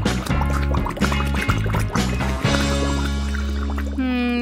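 Water pours steadily into a pot in a kitchen, readied for boiling to cook French fries, a loud continuous liquid fill with small knocks and a rising pitch toward the end.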